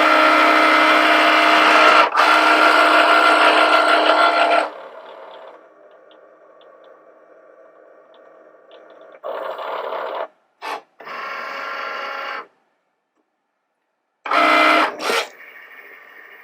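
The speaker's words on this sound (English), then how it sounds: "So the first thing the machine does is the scoring." A Cricut cutting machine scores lines on a mat, a loud mechanical whir that runs in several stop-start passes separated by quieter hums and brief silences, with no talk.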